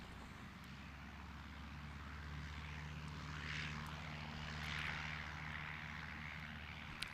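A Piper PA-28-151 light single-engine propeller aircraft at Gloucestershire Airport gives a steady droning engine hum with a low harmonic tone, holding at moderate distance throughout with a slight swell midway.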